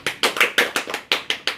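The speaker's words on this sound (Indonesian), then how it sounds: "Tepuk tangan." Students in a classroom clap together during a history lesson, about nine quick, evenly spaced claps in a brisk unison rhythm, close and fairly loud, with no talking.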